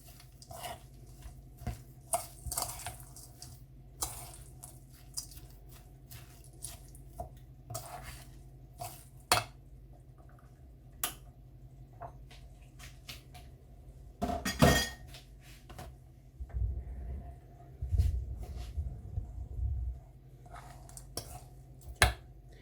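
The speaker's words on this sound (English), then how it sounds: "I'm going to give the whole thing a bit of a stir." Soya mince, breadcrumbs and wholemeal bread pieces being stirred together in a bowl, giving scattered light clinks and scrapes of a utensil against the dish over a quiet background, with a denser burst of mixing toward the end.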